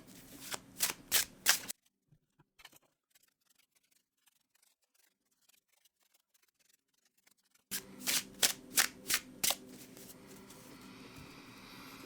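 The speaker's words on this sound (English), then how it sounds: "I'm going to give the deck a really good shuffle for you" A deck of tarot cards is riffled in quick, crisp bursts, then a long near-silent pause before another run of sharp shuffles.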